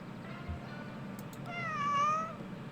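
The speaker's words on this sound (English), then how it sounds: "Inquisitive meow." A cat in the video game Kentucky Route Zero gives a single inquisitive meow with a rising then falling tone, soft and close over a quiet low background hum.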